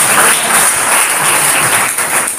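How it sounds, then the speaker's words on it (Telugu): A church congregation claps loudly and steadily, dense applause filling the room without a break. "ఒకసారి అందరూ గట్టిగా చప్పట్లు కొట్టి"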